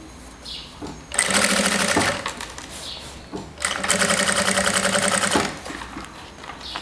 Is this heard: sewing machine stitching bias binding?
yes